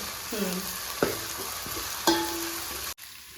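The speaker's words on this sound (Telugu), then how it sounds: "అల్లం, తెల్లబాయ పెడితే వేయించినాయండి" Ginger and garlic frying in oil for dal khichdi, a steady close sizzle with a few sharp stirring clinks and scrapes of a spoon in the pan, ending abruptly.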